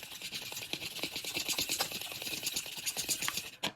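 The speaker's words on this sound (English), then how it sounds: "I'm gonna crack my egg into a small bowl and just whisk this up with this fork" A fork whisking an egg in a small bowl, quick rapid clicking taps of metal against the bowl in a fast irregular rhythm, close and fairly quiet with no talking.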